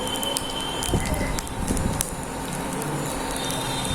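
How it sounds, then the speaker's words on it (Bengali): Bay leaves and whole cumin hit hot oil in a pan and sizzle loudly and close, with steady crackling and small pops over a continuous hiss. "তেলটা গরম হয়ে গেছে, এবার এর মধ্যে আমি তেজপাতা আর গোটা জিরাটা ফোড়ন দিলাম"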